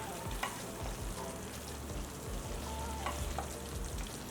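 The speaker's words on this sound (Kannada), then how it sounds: "ಟೊಮೆಟೊ ಹಾಕ್ಕೊಳ್ಳೋಣ. ಟೊಮೆಟೊ ಮೆತ್ತಗಾಗುವವರೆಗೂ ಬೇಯಿಸ್ಕೊಳ್ಳೋಣ." Four lengthwise-sliced tomatoes for tomato rice fry in a pan, a dense continuous sizzle with a few soft spatula scrapes and clinks underneath, close and steady throughout.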